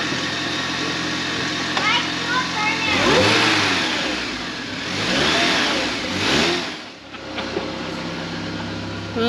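A worn-out Chevrolet Cobalt engine runs and revs, rising and falling in two broad surges before dropping low and settling into a steady idle. Heard from close by with a rough, mid-pitched tone.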